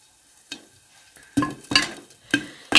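Popcorn kernels starting to pop inside a pot on the stove, heard as a few sharp, separate pops with gaps between them, fairly close and rising in loudness.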